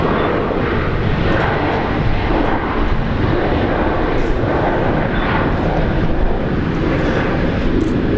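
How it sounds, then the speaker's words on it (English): A Virgin Australia Boeing 737 MAX 8 jet departs Brisbane International Airport bound for Fiji, its engines producing a loud, steady broadband roar that holds throughout. "our very first 737 MAX 8 on today's stream. Virgin Australia will be heading off to Niugini"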